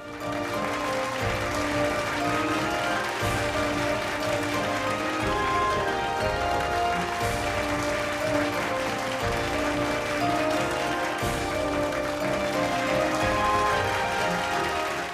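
Steady, dense applause from a large audience, continuous and loud throughout without pauses.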